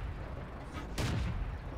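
A single tank gun shot in the video game World of Tanks, fired from a Cromwell: one sharp, heavy boom about a second in, over a steady low engine rumble, fairly faint overall.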